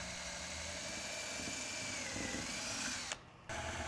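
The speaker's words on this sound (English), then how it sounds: "Open the 2 bushings using a small bit, then a letter D drill." Letter D drill bit boring out nylon clevis bushings, a steady close whine with a brief cut-off near the end before the tool resumes.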